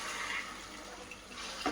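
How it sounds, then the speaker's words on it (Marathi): Cooked vegetable water being poured into a Maharashtrian mixed vegetable dish for Bhogi, a brief soft splashing pour heard close up with no talk. "शिजवलेल्या भाजींचं पाणी आपण ॲड करून घेऊ."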